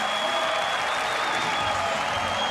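A German crowd cheers and applauds at a triathlon transition during the European Championships in Munich, a dense, steady roar of clapping and shouting lasting the whole short stretch.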